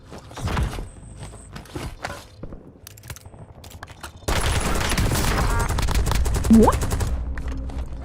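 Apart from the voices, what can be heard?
gunfire in Warzone video game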